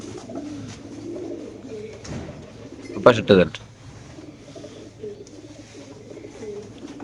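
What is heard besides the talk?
racer pigeons cooing, red checker pigeon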